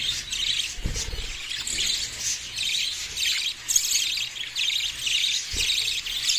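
Pet budgerigars chirp and twitter continuously in quick, high bursts, close by, with a couple of soft thuds in the background.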